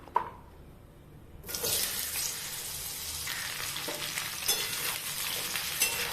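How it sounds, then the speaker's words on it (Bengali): Pieces of pointed gourd (potol) hit hot oil in a wok after the potatoes come out, bursting into loud, crackling sizzling after a quiet opening second, then frying steadily and close by. "এবার আমরা কড়াইতে পটলগুলো সব দিয়ে দেব।"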